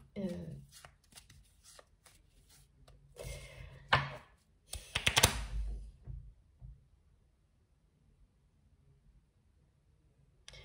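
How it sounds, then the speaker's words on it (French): Tarot de Marseille cards are shuffled and drawn, a series of crisp riffling bursts and soft card slaps close by, ending in near silence as a voice talks faintly. "Je tire une carte de mon tarot de Marseille"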